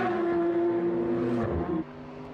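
A race car warms up on the circuit at Estoril, its engine giving a brief faint droning tone that rises slightly and then drops away after about a second and a half.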